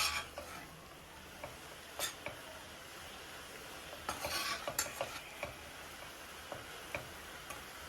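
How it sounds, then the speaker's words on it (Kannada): Grated coconut and greens frying in a pan, a faint low sizzle under scattered light clicks and taps of stirring, no talking. "ಸ್ವಲ್ಪ ಹೊತ್ತು ಫ್ರೈ ಮಾಡಬೇಕು ಹಿಂಗೆ."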